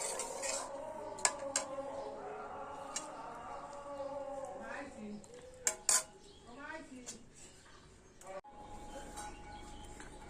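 Fish-head muri ghonto is poured from a cooking pot, with metal clanks and scraping of utensils against the pot, several sharp knocks, and a voice talking over the kitchen clatter.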